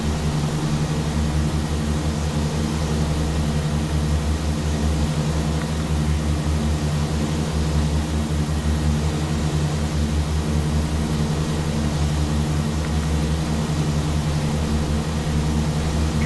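A Tecnam P2006T twin-propeller aircraft drones steadily as it climbs in X-Plane 12. The engine hum is loud, constant and close, with no talk over it.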